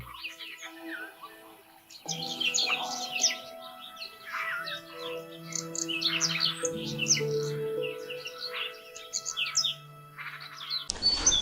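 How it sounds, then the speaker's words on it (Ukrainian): Small birds chirping and twittering outdoors at a spring fishing spot on the water, a lively, continuous chorus of quick tweets at moderate distance, ending with a brief loud knock. "Природка, конечно, сейчас птички щебечат."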